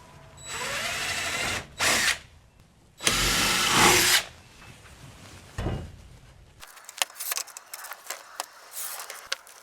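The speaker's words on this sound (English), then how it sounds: "Let's drill a little pilot hole for the screw." A power drill bores a small pilot hole into a wooden wall stud in a garage. Loud, whirring bursts start and stop, followed by quieter clicks and handling clatter.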